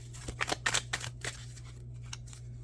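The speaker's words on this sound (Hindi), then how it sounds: "आपके सामने शफल हो रहे हैं" Tarot cards shuffled by hand during a reading, giving a quick run of soft riffling and flicking bursts, close and fairly quiet over a steady low hum, then trailing off.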